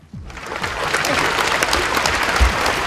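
Audience applause at a grand finale award show, a dense burst of clapping that starts abruptly and continues steadily, loud and close, with a faint voice beneath.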